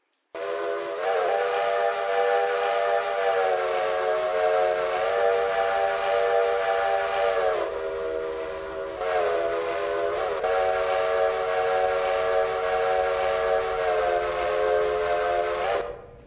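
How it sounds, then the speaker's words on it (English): Steam locomotive whistle in the train game Railroader, blown in two long, loud chorded blasts with a short gap between them, the pitch shifting slightly as the whistle is opened and closed. "being able to drag the mouse up and down in order to blow your whistle"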